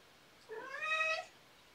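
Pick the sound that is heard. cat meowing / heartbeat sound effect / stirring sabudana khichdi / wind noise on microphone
cat meowing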